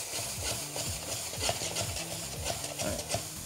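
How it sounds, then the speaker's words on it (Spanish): Rice and pork sautéing in fat in a hot pan, with a steady close sizzle broken by repeated scraping stirs, about one every half second, and no voices. "Aquí un poquito sofreír."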